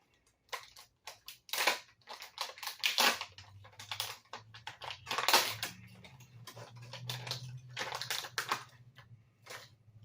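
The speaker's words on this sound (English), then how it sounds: "Let's test the wire cutters on our brand new pliers." Cheap Dollar Tree multi-tool pliers with built-in wire cutters being tested, giving a run of close, crisp clicks and snaps in uneven bursts over a low steady hum.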